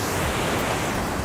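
Ocean waves breaking on rocks at high tide, a dense, continuous broadband rush of surf with some wind noise, loud and close with no voices.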